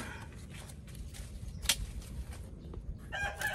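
A chicken crows and clucks at a moderate distance, with short calls rising over faint background noise and a few scattered rustles.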